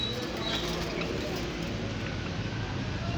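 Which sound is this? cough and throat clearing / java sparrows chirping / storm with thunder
java sparrows chirping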